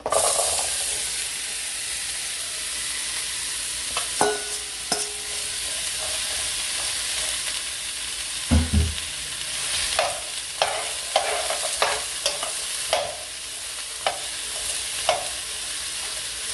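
Apples for a chutney sizzle steadily in a hot pan, with a broad hiss throughout and scattered clacks and scrapes of a spoon stirring them, louder knocks clustering toward the end.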